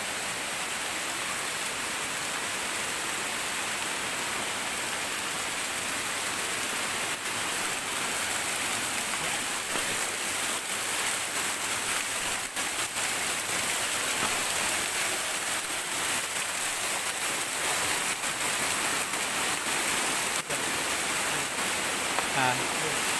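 A waterfall's water crashes down in a steady, dense roar of broadband rushing noise, continuous and fairly close throughout.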